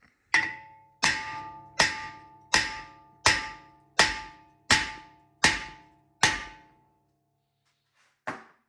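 Mini sledge hammer strikes on the front hub bearing of a 2019 Ford F150 4x4, nine loud ringing metallic clangs at a steady pace of nearly one per second, then a pause and one final blow.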